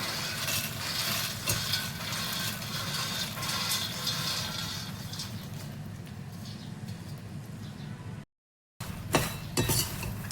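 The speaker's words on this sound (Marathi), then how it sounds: "मखाने मिक्स करून घेऊया मसाल्यामध्ये" Fox nuts (makhana) being stirred into a roasted spice mix with sugar in a pan, steady scraping and soft clinking of a spoon against metal with a faint sizzle, brief silence near the end.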